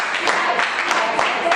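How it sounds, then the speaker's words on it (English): A classroom of students claps together in a brief, steady burst of rhythmic applause, with spaced sharp hand strikes over a continuous patter. "Give a nice clap for everybody."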